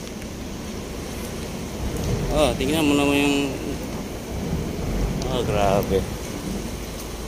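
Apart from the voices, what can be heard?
rain and thunder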